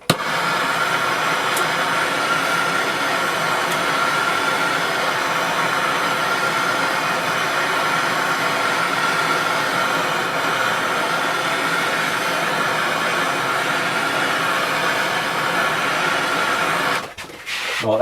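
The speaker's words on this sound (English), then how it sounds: "So I'm just now going to heat up the tongs like I normally do with a torch" A handheld torch heats a pair of metal tongs before pouring .999 fine silver, giving a steady, continuous roaring hiss that holds level for the whole stretch and cuts off abruptly near the end.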